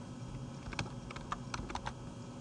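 Quick, irregular keystrokes on a computer keyboard, entering crop dimensions in Photoshop; about a half-dozen light clicks at a moderate distance over a steady background hum.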